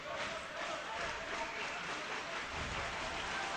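Student section crowd at a Castleton vs Norwich men's college hockey game in 2014 roars in a dense, steady wash of cheering and applause that holds loud and constant throughout.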